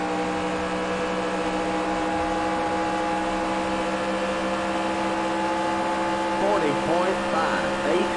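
NASCAR Racing 2003 Season stock car engine at California, a steady loud buzzing drone held at constant revs throughout, with a brief fluttering rise near the end.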